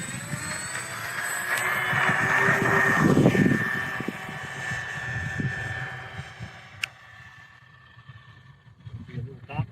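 A B-25 bomber in a video game drones steadily with a sustained engine roar that swells and fades over several seconds, with bursts of game noise and brief sounds under it.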